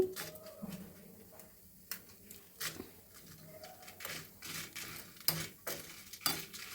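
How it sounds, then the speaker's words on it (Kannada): Byadgi chillies roasting in a pan alongside chana dal and urad dal for an orange peel chutney: quiet, scattered clinks and light scraping of a spoon stirring, with a faint dry sizzle underneath. "ಬ್ಯಾಡಗಿ ಮೆಣಸನ್ನು ನಾನು ಹುರಿಯಕ್ಕೆ ಹಾಕೋತಾ ಇದ್ದೀನಿ"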